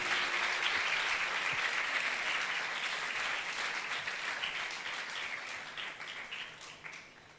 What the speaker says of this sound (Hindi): खुदा के जलाल के लिए जोरदार तालियां।